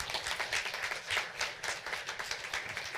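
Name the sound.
audience applause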